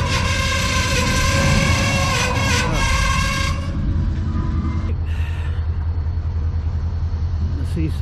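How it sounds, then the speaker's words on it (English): A train passes in the morning with a loud continuous rumble, carrying a ringing metallic tone for the first few seconds that fades to a steady lower roar as it continues past, nearby and dominant. "See some train action."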